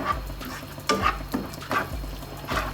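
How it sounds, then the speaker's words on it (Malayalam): Paneer masala with curd is sautéed in a pan, giving a steady sizzle broken by several distinct scraping stirs, close up and without speech. "ഒന്നും കൂടെ ഒന്ന് വഴറ്റിയെടുക്കട്ടെ"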